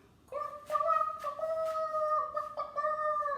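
A group of voices imitates a rooster crowing, a drawn-out wavering cock-a-doodle-doo sung together, fairly close.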